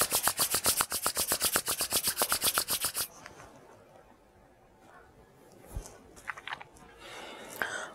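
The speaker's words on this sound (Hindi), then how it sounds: "दोनों हाथों को आपस में रगड़ते हुए आंखों को खोल दीजिए।" Hands rubbed briskly against each other make a close, rhythmic rasp of about twenty quick back-and-forth strokes, which stop abruptly and leave a quiet room with faint stray noises.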